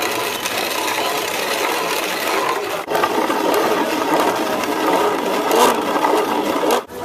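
Dried corn being ground into meal by hand in a mill, a steady coarse grinding and scraping that runs continuously and fairly loud, with a brief pause near the end before it resumes.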